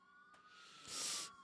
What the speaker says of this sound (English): Is that the ambulance? The sirens.